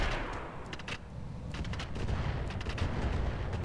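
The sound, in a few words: LRM missiles firing in Roguetech BattleTech video game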